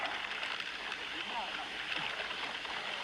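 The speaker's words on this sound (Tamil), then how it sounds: "ஆஹா அருவி அருவி அருவி குளிச்சிடலாமா?" A waterfall heard on a cycling trip from Ladakh to Srinagar gives a faint, steady rush and gurgle of falling water. It sounds distant and continuous, and a voice speaks over it.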